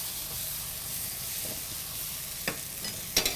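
Spice paste frying in oil, a quiet steady hiss and sizzle that turns into a few sharper crackles and spatula scrapes toward the end, no speech.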